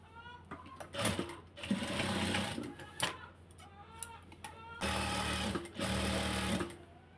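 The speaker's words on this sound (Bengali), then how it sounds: "এই যে সেলাই করে নিচ্ছি" A sewing machine stitches ribbon onto a hijab neckline in several short whirring bursts of rapid needle clatter, close up, separated by brief pauses and faint handling sounds.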